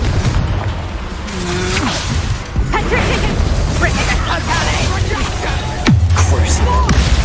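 A Confringo fire spell cast in Hogwarts Legacy on hard mode, with a burst and crackle of magic effects and impacts throughout, a louder blast near the end, all under a voiced character line and game music.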